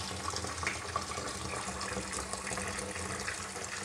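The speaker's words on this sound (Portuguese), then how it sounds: "Agora nós vamos lá adicionar a água" Water pours steadily into a pot of rice with carrots, a continuous splashing rush with no talking over it.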